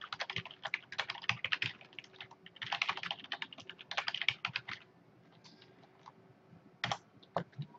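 Keys clatter on a computer keyboard as an email address is typed into a WildStar login, in quick bursts of close clicking separated by short pauses, with a few isolated taps near the end.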